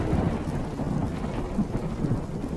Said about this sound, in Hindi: अरे माधव भाई, इस आंधी तूफान वाली शाम को नदी के किनारे तुम अचानक से कैसे आ गए?